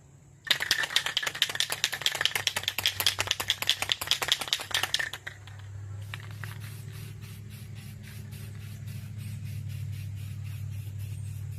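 Rust-Oleum spray paint hisses from an aerosol can onto a truck's interior parts, a loud close rattling burst for about five seconds, then a softer steady hiss with faint ticking continues alone.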